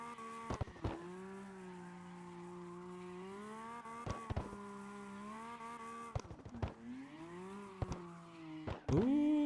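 A drift car's tires squeal steadily while it slides, with an engine droning underneath and sharp shifts and clicks breaking up the long, moderately loud skid.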